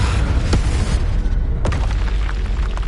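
Confringo spell explosions in the Hogwarts Legacy game: two sharp blasts ring out over a loud, dense, rumbling din that fills the whole stretch.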